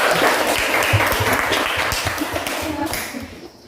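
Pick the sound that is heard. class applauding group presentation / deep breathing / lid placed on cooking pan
class applauding group presentation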